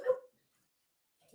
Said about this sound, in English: my guard dog